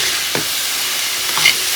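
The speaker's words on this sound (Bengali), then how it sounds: "এখানে নিয়ে নিয়েছি আমি বরবটি, গাজর আর টফু। তো এই 3টে এখন ভাজা করে নিচ্ছি।" Yardlong beans, carrot and tofu frying in a pan, a steady soft sizzle with a couple of short scraping stirs, close and without talk.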